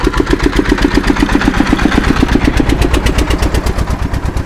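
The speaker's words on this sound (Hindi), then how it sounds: "इसको कहते हैं पीटर इंजन। ये हमारे पंजाब की एक अहम पहचान है और ये बड़ा पुराना इंजन होता है। पीटर इंजन बहुत शोर मचाता है" A Peter engine, an old stationary engine typical of Punjab, chugs in a village with a steady rapid thumping rhythm, loud and close, running alone without voices.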